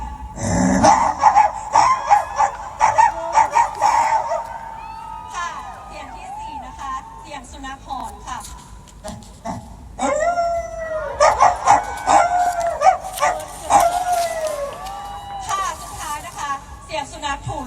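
A voice imitates a dog fight, with snarling growls, yelps and howl-like whines in rapid bursts, pausing briefly midway before another heated round.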